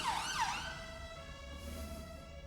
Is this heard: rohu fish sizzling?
no